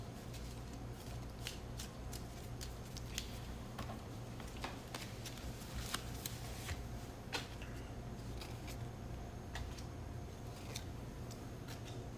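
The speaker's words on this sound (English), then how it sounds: "Shuffle some of these cards." A deck of playing cards is shuffled over and over, a steady run of close riffling snaps and clicks with no voices.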